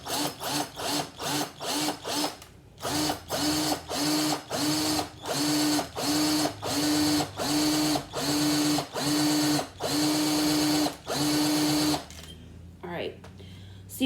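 A drill bores a hole in a plant pot in short, evenly spaced pulses, each a loud whining burst with a brief gap between, about a dozen in a row, then scraping and handling noise.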